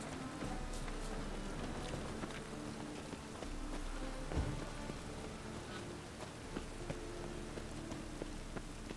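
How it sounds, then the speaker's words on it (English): Steady rain pattering on a surface in The Witcher 3 video game, a soft continuous hiss with occasional louder drops, fairly quiet and unbroken. "looks like rain"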